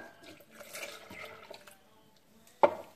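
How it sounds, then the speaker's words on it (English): Milk being poured into a Pampered Chef trifle bowl makes a quiet, uneven liquid trickle, ending in a short, sharp clink. "I'm just standing up and pouring it in"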